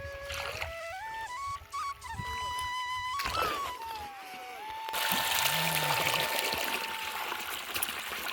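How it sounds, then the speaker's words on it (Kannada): Water from a successful borewell rushes into farm irrigation channels, a steady broadband gush that grows fuller partway through, with voices and other tones over it. "ಎಷ್ಟು ಕೇಳುವದು ನೋಡಿ ನೀರು"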